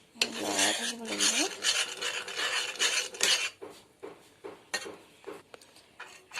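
A spoon stirs a thick keratin hair spa mixture in a bowl continuously, giving close, steady scraping and rubbing strokes with clinks against the container that loosen into separate scrapes toward the end.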